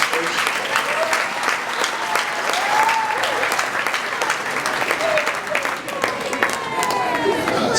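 A wedding audience at the speeches applauds for Jim and Beth, sustained dense clapping from a crowd that stays loud and even throughout.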